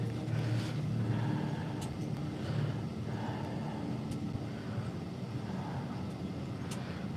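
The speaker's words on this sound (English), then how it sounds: "I got a plane flying above me." A plane passes high over a winter hot-tent campsite, a faint, steady broadband drone with low rumble lasting several seconds, without talking.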